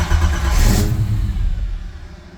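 A Great White Coupe's engine fires up, a short loud burst of cranking and revving that then settles and fades, close by.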